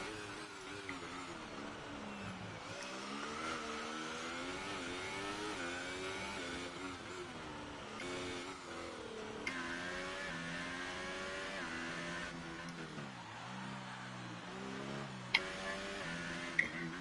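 Formula 1 race car engines from a PS4 racing game whine continuously with rising and falling pitch sweeps as cars accelerate and shift, several engines overlapping at steady loudness with a few sharp clicks near the end.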